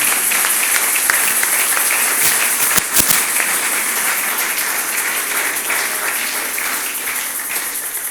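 Sustained applause from a church congregation, dense and steady throughout, with no clear pauses and a few sharper claps standing out near the middle.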